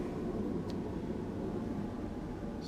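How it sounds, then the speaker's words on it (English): An aeroplane flies overhead during fabric headlining work on a car, heard as a steady, broad, rumbling drone that stays level throughout with no talking. "Excuse the aeroplane."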